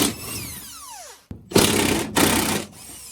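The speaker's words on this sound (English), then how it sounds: "Then you get your trusty Milwaukee impact gun, because I don't have the time to loosen these by hand" A Milwaukee impact gun loosens bolts on a 1969 Chevy Corvair dash, first spinning down with a falling whine, then firing two loud close hammering bursts separated by a short pause, with no talk.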